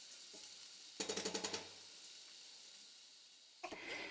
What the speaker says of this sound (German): Pro Person gebe ich eine Soßenkelle Risotto-Reis zu der Zwiebel und lasse alles anbraten.